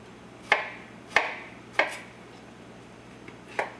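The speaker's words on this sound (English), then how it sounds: "Garlic peel, I'm just gonna cut it into little bitty slivers." A knife cuts peeled garlic into slivers on a board, five crisp chopping taps spaced at an unhurried, slightly uneven rhythm, close and clear against quiet background.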